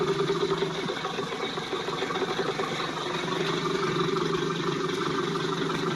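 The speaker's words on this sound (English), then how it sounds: "So now we reduce RPM to the minimum that is possible here on this engine, which is about 700." An outboard boat engine idles steadily at its lowest speed, around 700 RPM, a low continuous hum and rattle at moderate distance with no talking.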